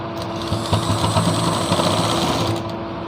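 A sewing machine runs steadily, stitching the seams of a Patiala salwar at home, a close, continuous mechanical whir with rhythmic needle clatter from start to finish.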